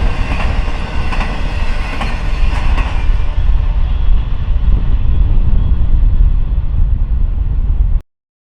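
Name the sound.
Norfolk Southern intermodal train with two C6M locomotives passing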